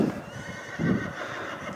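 A horse at a family house in the countryside neighs and whinnies close by, with a sharp burst near the middle of a short moment, along with a faint clop of hooves.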